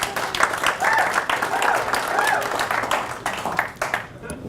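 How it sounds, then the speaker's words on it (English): Sustained audience applause fills a Michigan political event about women running for state Senate and House seats, dense steady clapping close by that fades near the end. "Thank you for applauding too"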